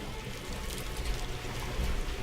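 Water pours and splashes continuously in a steady rushing stream in a video game water purification plant, with no talking.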